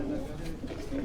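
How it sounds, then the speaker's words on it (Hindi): Missay pigeons coo in low, throaty bursts, close by, with a faint human voice underneath for about a second. "ये मिस्से कबूतर कहलाते हैं जनाब।"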